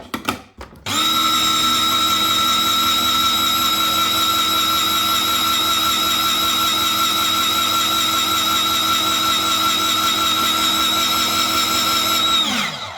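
A Kmart 5-in-1 electric salad maker grates cheese through its blue cutter, its motor starting up with a clunk, then whining at a steady high pitch for about eleven seconds before spinning down.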